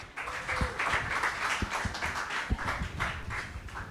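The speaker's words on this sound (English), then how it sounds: "Another round of applause for him." An audience claps for a poet at a live poetry performance, steady mid-level applause throughout with a few sharper individual claps standing out.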